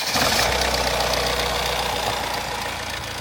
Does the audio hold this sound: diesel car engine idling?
yes